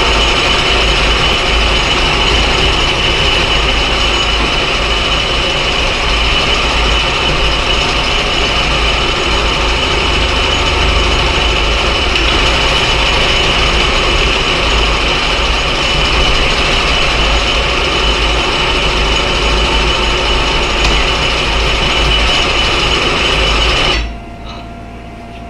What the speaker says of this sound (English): I'm going to go ahead and bottom out this drill bit in there